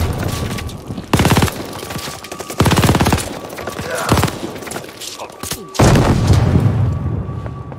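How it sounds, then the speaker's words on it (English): In the Call of Duty Vanguard video game, a grenade blast and gunfire erupt as loud, close bursts of booms and rapid fusillades, repeating in heavy waves across the battle scene. "Grenade, get down!"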